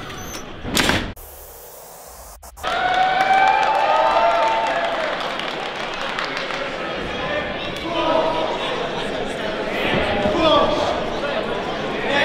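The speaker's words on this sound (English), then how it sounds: "packed crowd at Temple Live. Fans going crazy" A packed wrestling crowd at Temple Live roars continuously, a dense wash of cheering and shouting that swells and holds after a couple of sharp knocks.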